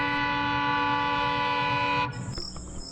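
A train horn sounds loud and sustained for about two seconds, then cuts off, leaving rumbling rail noise and a brief higher tone as the train pulls away.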